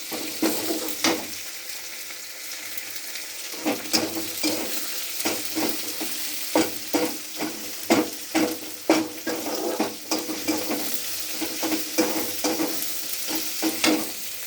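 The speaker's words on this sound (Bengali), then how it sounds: "আমি টমেটোটা দিয়ে কি সুন্দর নাড়াচাড়া করে নিচ্ছি" Tomatoes fry in a pan for a fish curry while a spoon stirs them, the sizzle punctuated by repeated sharp scraping and tapping strokes against the metal, close and busy.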